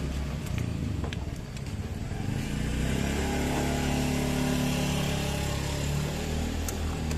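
A motorcycle engine runs after a carburetor adjustment meant to stop it revving high by itself, loud and close, settling from a rougher rev into a steady, lower idle.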